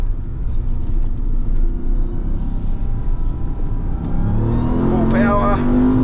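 A 2024 RAM 1500 TRX Final Edition pickup accelerating hard gives a loud, deep engine rumble heard from inside the cab. The pitch climbs toward the end, and a voice speaks briefly over it.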